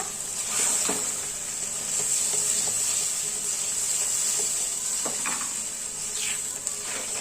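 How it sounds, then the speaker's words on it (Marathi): Hyderabadi paneer gravy sizzles steadily in oil in a pan, a close, constant hiss with a few faint scrapes of a spoon, and no one speaking. "चार ते 5 मिनिटं छान परतून घ्यायची आहे तेल सुटेपर्यंत."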